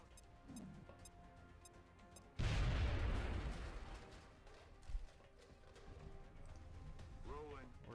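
A frag grenade blast in XCOM Long War: one sudden loud boom with a rumbling decay, set against quieter game ambience and background music.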